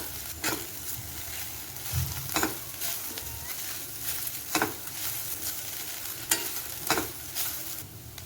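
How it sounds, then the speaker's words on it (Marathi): Okra frying for masala bhendi in a pan, stirred repeatedly, with a steady sizzle broken by periodic scraping strokes of the spoon; no voices. "भेंडी शिजेपर्यंत आपल्याला असंच हलवत राहायचे"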